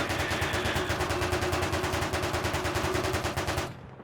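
Tank coaxial machine gun firing at an attack helicopter in the Arma Reforger video game, a rapid, evenly paced burst of heavy automatic shots lasting several seconds before stopping abruptly.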